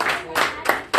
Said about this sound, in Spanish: ¿Puede bendecir a alguien con un aplauso?